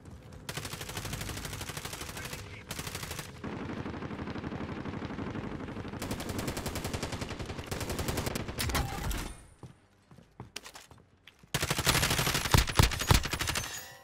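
Sustained automatic gunfire in Call of Duty: Modern Warfare, with long dense bursts from several weapons, a brief lull of scattered shots, then a loud close volley resuming.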